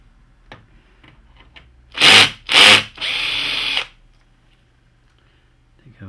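An electric screwdriver backing screws out of the optical assembly of a Hitachi ED-A100 projector, two short whirring bursts followed by a longer steady run, close and loud against near silence with faint handling clicks around them.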